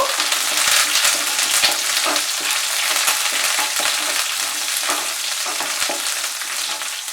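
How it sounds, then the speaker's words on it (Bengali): Onion fries with a handful of curry leaves in a pan for sambar, a loud continuous sizzle broken by frequent scraping stirs of a spatula, close up and without speech. "পেঁয়াজটা দেওয়ার পরে পেঁয়াজটা কিন্তু ফ্রাই করে নেব।"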